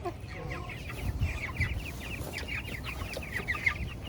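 Several chickens cluck softly and repeatedly at a moderate distance, a steady scatter of short clucks over a low background rumble.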